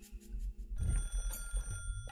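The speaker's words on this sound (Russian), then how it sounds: "как телефон зазвенел вновь" A telephone in the Higurashi: When They Cry video game starts ringing partway through, after a quieter stretch, its bright electronic trill repeating and holding steady to the end.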